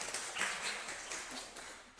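A class of students applauds in an Indonesian teaching session, a dense, steady patter of clapping that fills the whole moment without any voices.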